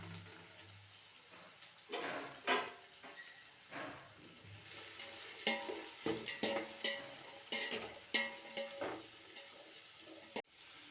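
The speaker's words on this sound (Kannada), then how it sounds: "ಈರುಳ್ಳಿ ತೊಗೊಂಡಿದ್ವಲ್ಲ ಆ ಈರುಳ್ಳಿಯನ್ನು ಹಾಕ್ಕೊಳ್ಳೋಣ" Chopped onions dropped into hot oil in a home kitchen pan, frying with a steady sizzle while a utensil scrapes and stirs in irregular clattering bursts, close and fairly quiet, with no talking.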